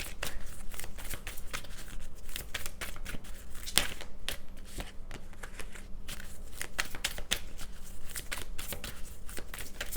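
Tarot cards being shuffled over and over, a steady run of crisp riffling flutters and snaps, close by, with no talking.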